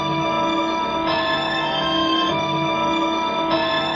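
Chopped string phrases repeat in a steady looped pattern, with sustained tones and a few abrupt cut points, played alone.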